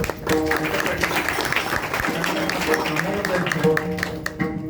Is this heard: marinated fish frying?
no